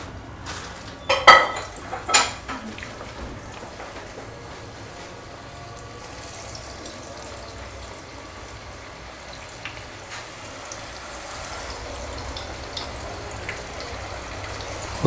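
Chicken 65 pieces go one by one into hot sunflower oil: a few sharp clinks and splashes early on, then a steady, close, low sizzle of frying that carries on without talk.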